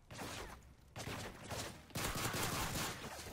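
Bursts of rapid gunfire from the video game Modern Warfare 3, loud and dense, coming in three clustered volleys with brief gaps between them and no talk over them.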